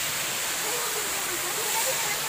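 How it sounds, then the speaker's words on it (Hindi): The Siyadevi waterfall near a temple and cave in Balod, Chhattisgarh, pours with a dense, continuous hissing roar, loud and close, over a brief low voice. "अभी झरना अच्छा ही गिर रहा है दोस्तों"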